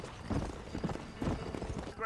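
Horse hooves clip-clop in a steady galloping rhythm in the video game Red Dead Redemption, the hoofbeats loud and close, with someone talking over them.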